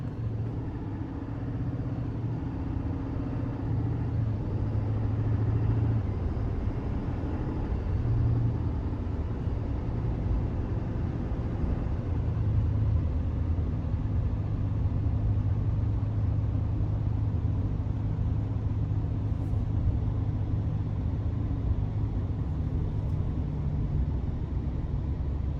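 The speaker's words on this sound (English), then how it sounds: "you can hear a slight rumble from the 8-cylinder" Steady low rumble from a GMC Sierra 3500HD Denali dually pickup with a 6.6-litre diesel V8, idling at a stop, heard from inside the cab; constant and moderately quiet throughout with no talk.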